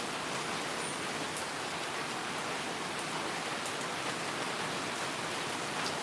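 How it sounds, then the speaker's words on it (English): Steady rain falls outdoors on a street in the Klongtoey slums, a dense, even hiss of drops with faint scattered patters, constant and fairly loud with no voices over it. "because it's raining"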